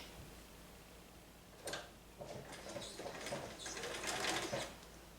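A Bernina sewing machine stitches a seam on a stretch skirt: quiet at first, then short rapid bursts of mechanical whirring and ticking that grow steadier and slightly louder, with no speech.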